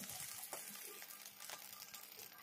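Spices frying in a pan at home, a continuous soft sizzle with faint crackles and occasional stirring scrapes, steady and fairly quiet throughout.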